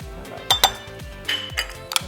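A spoon scrapes and clinks against a dish while a cleaning paste for a burnt-on stove is stirred, a few bright metallic taps over a low rhythmic hum, close by, with no talking.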